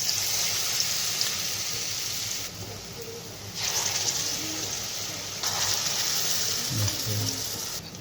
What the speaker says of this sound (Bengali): তো ভাজার জন্য দিয়ে দেবো রিফাইন তেল তেলটা গরম হয়ে গেছে তো এক এক করে বড়াগুলো ছেড়ে দিই